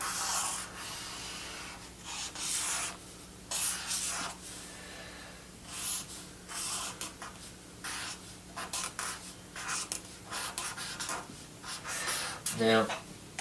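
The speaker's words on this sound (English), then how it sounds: "This is how I draw sneakers." A pen or marker scratching and rubbing on paper while sneakers are drawn, soft close strokes in irregular bursts with a steady low hum underneath and a brief squeak near the end.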